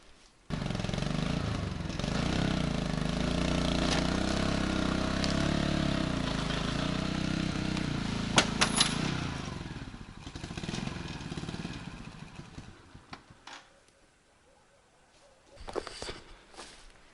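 Motor tricycle pulling a trailer loaded with long firewood pulls away, its engine rumbling steadily up close with clattering from the load, then fading and quieting before a short rev near the end.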